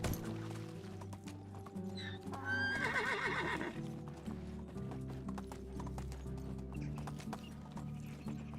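Horse hooves clip-clop in a steady rhythm in the Echoes of Nature game while a horse neighs loudly with a rising whinny partway through, all over a continuous musical background.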